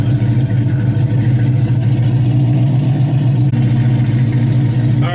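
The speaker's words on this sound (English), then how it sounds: "So we're gonna go drive around for like 5 minutes and let it warm up." A Dodge Hellcat Charger tuned to over a thousand wheel horsepower drives to warm up, its engine a loud, steady low rumble with a constant deep drone from inside the car, no speech.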